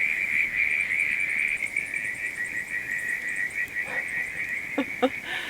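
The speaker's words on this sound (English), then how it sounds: "That is going to be quite a racket to go to sleep to." Frogs call at night in the New Zealand bush in a constant high, trilling chorus that blends with insect-like chirps, and a few louder nearby croaks break through near the end.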